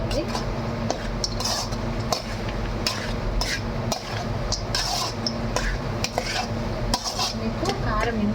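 A metal spoon scrapes and clinks against a pan as cooked rice is stirred and mixed for pulihora, with steady repeated taps and scrapes close up and faint kitchen background noise.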